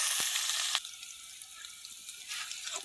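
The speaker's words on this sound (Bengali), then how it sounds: "চুলাতে কড়াই বসিয়ে তেল দিলাম। এখানে দিব কাঁচা ঝাল, রসুন থেতলা করা আর পেঁয়াজ কুচি। ভাজে নেব ভালো করে" Green chilies, crushed garlic and chopped onion drop into hot oil in a pan. A loud burst of sizzling at first settles into a softer, continuous frying hiss.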